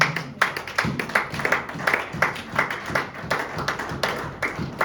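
A church congregation claps in a steady, lively rhythm, sharp repeated handclaps filling the room in a continuous pattern, with faint voices mixed in.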